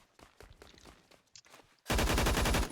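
An AUG HBAR rifle with a compensator fires a loud rapid automatic burst in Phantom Forces, following a stretch of quieter footsteps and movement.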